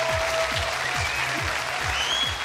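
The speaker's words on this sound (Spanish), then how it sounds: "Un aplauso para Lucha." Studio audience applause on a Colombian television talk show, a steady dense wash of clapping at moderate level throughout, with low rhythmic thumps underneath.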